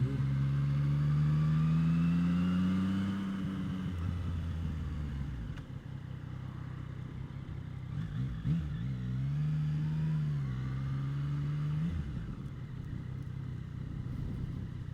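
A 2019 Yamaha MT-09 motorcycle riding, its engine droning loud and steady with rising and falling pitch as the throttle opens and eases, the note dipping briefly mid-ride before climbing again, wind rushing underneath.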